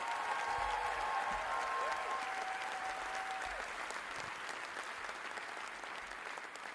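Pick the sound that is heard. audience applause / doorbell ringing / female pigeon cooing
audience applause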